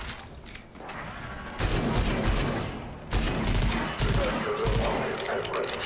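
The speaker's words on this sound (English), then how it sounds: "Turrets hot." Bursts of automatic turret gunfire from the video game Rage 2 rattle in dense volleys, with loud stretches separated by brief lulls and a voice occasionally heard beneath the shooting.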